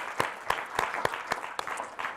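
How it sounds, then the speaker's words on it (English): Hands clapping in a sharp, regularly spaced series of about seven claps, close and fairly loud, from a speaker at a university talk on the Peace Corps, with no voices over them. "So I just want to clap my hands for all of you."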